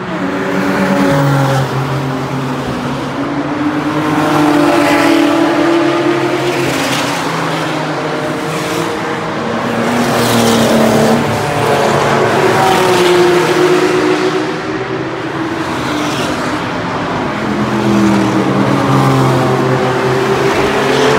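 A tuned car revs hard and drives past at a Supercar Sunday event at the Assen circuit, loud and close, its engine note rising and falling in repeated surges of acceleration and gear changes over about twenty seconds.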